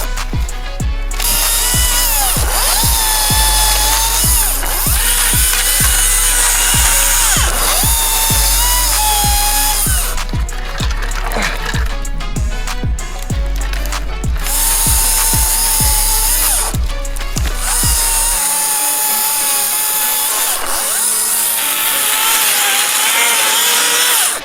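Chainsaw cutting wood during construction of a steep freeride mountain bike trail, a loud continuous engine drone with repeated revving surges and cuts over about twenty seconds, close to the microphone, before the motor drops away near the end.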